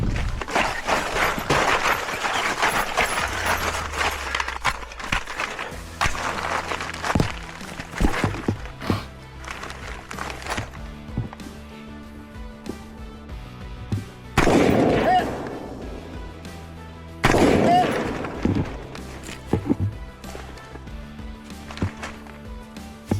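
Rifle shots during a tactical run-and-gun fitness shooting course, a few sharp reports spaced apart with thuds, footsteps and movement between them, plus a couple of louder, closer blasts later on.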